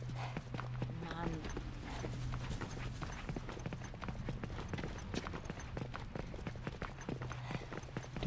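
Horse hooves clip-clop steadily and continuously in The Last of Us: Left Behind, a brisk rhythmic clatter under a game soundscape with someone speaking briefly early on.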